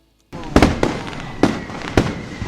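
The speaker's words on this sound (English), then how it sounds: "Beautiful Disney fireworks." Fireworks bursting in quick succession after a brief silence, four or so sharp booming cracks with crackling in between, loud and close.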